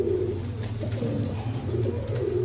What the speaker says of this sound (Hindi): देखें कबूतर फुल जरकान आंखों का